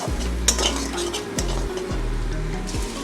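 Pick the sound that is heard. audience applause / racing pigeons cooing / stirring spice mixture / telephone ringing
stirring spice mixture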